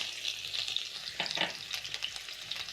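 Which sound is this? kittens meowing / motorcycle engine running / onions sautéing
onions sautéing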